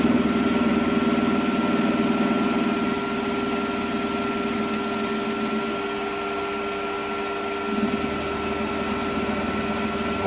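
A metal lathe turns a part to diameter in an offset 4-jaw chuck while building a Webster engine: a steady motor drone with a cutting whine, the tone changing near the end as the cut eases.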